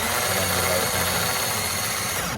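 A cordless 12 or 18 volt drill whirs steadily and loudly at close range, winding the steady legs of a 2021 Swift Fairway Classic caravan, then cuts off abruptly at the end.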